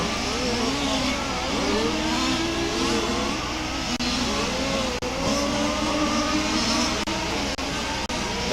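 Race car speeding down the straightaway at a Warm Springs series race, a steady, loud engine drone with shifting pitch sweeps that holds throughout without a break.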